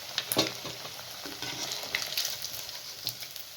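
Mutton pieces fry briskly in hot oil, a close, crackling sizzle with irregular pops and light stirring clatter. There is no speech over it.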